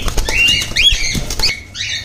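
Caged lutino cockatiels flap their wings in quick, loud flurries, close by, mixed with sharp chirping calls and light patter throughout.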